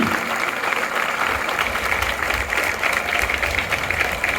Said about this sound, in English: May I ask you to stand up and clap for them.